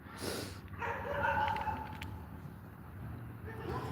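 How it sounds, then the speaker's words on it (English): A dog barks outdoors at a passing cyclist, a few sharp yaps near the start over a low background rumble, with someone talking softly. "Now, that's not the dog. That's another dog."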